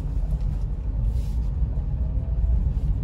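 Kia Picanto SE 1.2 automatic (2015, 1250cc) heard from inside the cabin: a steady low engine and road rumble, moderately quiet and continuous, with no talking.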